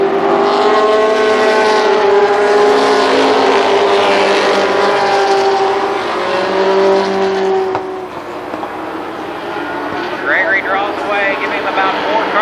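Race cars snarl through the turns at Columbus Motor Speedway in a loud, sustained engine roar that fades slightly as they pass, with an announcer calling the race over the noise.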